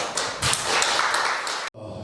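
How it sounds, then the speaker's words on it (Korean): An audience claps to welcome the chairman at a lecture hall cultural event, a dense burst of hand claps that carries on steadily and then cuts off abruptly near the end. "여러분 힘찬 박수 부탁드리겠습니다"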